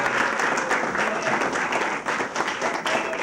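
A studio audience on an Indonesian television talk show breaks into loud, dense applause, a continuous wash of many clapping hands lasting a few seconds with no speech over it.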